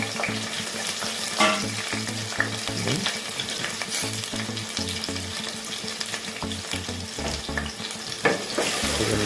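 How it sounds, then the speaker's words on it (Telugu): Sliced onions fry in a moderate amount of hot oil for chicken liver curry, a steady close sizzle with continual scraping stirs, and a tuneful backing melody underneath. "ఆనియన్స్ వేసుకొని కలుపుకున్నాము"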